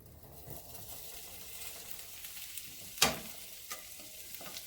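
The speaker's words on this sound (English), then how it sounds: "Transfer the meat back into the pan." Cooked ground meat for spaghetti sizzles softly in a frying pan, with one sharp loud clatter near the middle and a couple of smaller scrapes as it is tipped back in.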